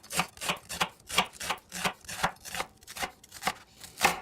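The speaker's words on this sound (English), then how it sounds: "I'm gonna bring this back the other way and go in half again, just because that was kind of a big onion" A knife slicing a large onion into thin half moons on a cutting board, about a dozen evenly spaced crisp cuts in a steady rhythm, close and clear, without talking.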